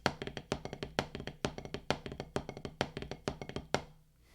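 Quick snare drum strokes in a repeating triplet pattern with soft diddles between them, played up close in a steady rhythm before stopping.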